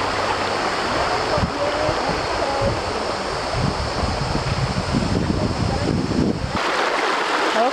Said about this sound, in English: We are now crossing the river, and the water is so cold and so refreshing.